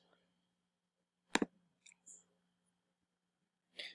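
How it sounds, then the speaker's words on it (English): A computer mouse gives one sharp, close click, followed by a few fainter clicks in an otherwise quiet room. "You will then click run crawler"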